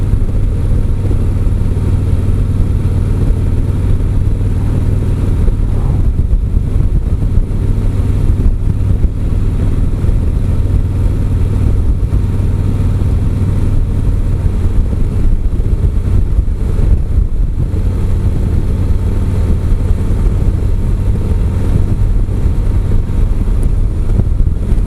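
2017 Harley-Davidson Street Glide Special cruising in sixth gear, a loud continuous low engine drone mixed with heavy wind roar for the whole stretch.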